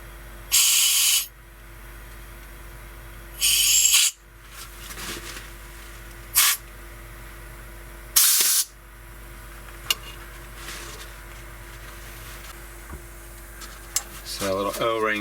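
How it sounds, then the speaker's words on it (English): Compressed air from an air hose blasts into the input of an Espar D30W boiler during a teardown, with several short, loud hissing bursts separated by pauses and a low steady hum underneath. "we're just going to apply a little bit of air to"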